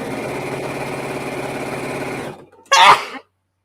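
A steady mechanical hum runs for over two seconds, stops, and a single short, loud sneeze bursts out right after, close by.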